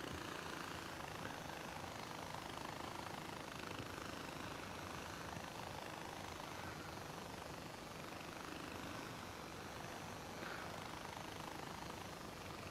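Helicopter in the video game Far Cry 4, a quiet, steady rotor and engine drone holding evenly throughout, faint and unbroken with no speech.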